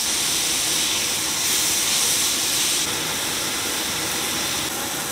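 A steak sears in smoking-hot oil in a cast iron skillet, a loud, continuous close hiss and sizzle that stays steady throughout with slight swells.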